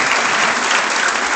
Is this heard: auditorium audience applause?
yes